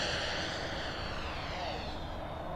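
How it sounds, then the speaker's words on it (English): A Taft Hobby Valkyrie 90mm EDF RC jet flies past with a steady, loud ducted-fan whoosh and a high whine that stays level throughout, with no talking. "It is just a very smooth jet from Taft."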